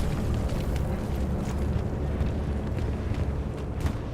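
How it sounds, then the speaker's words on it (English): A bombing run in the World War II shooter Hell Let Loose on the Carentan map, heard as a sustained heavy rumble of distant explosions blending into a continuous roar with no clear separate blasts. "When you hear bombing run, if you see garrisons go down, to me that's an effective bombing run"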